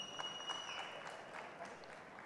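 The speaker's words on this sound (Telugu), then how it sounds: "so big round of applause for Chandy" Audience applause for actress Chandini at a film pre-release event, a steady wash of clapping from a crowd that holds for a couple of seconds at moderate level, with a thin electronic tone fading early on.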